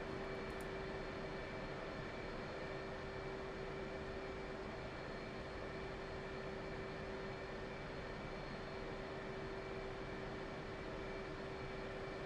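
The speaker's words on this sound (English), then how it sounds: "then we'll let the engines idle for just a moment" F/A-18C jet engines sit at idle in the DCS World flight simulator, giving a constant broadband rumble with a fixed tonal whine that stays unchanged and alone for the whole stretch.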